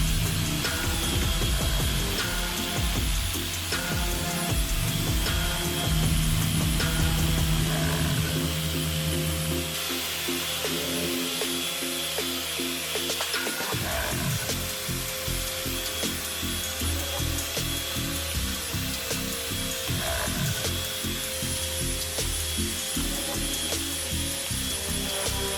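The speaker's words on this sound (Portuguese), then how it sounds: "Vamos lixar e polir para tentar salvar esse verniz." Continuous loud machine sanding and polishing of sun-damaged clear coat on a Volkswagen Jetta Turbo hood, steady abrasive whirring throughout with slight shifts in tone.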